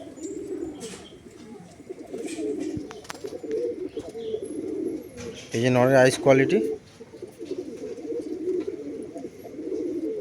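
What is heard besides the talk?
Madrasi pigeons cooing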